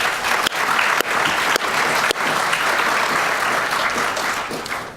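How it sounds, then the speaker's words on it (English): A council meeting audience gives a steady round of applause for volunteer councillors, dense clapping filling the room, loud and sustained with a few sharp claps standing out, tapering slightly at the end. "I'd like you to join with me in a round of applause for them."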